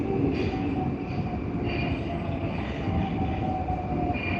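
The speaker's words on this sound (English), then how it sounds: "I like the modern day train. I'll take you to the modern day trains." A Moscow metro train rumbles loudly and steadily nearby at night, with high wheel squeals ringing over the continuous roar.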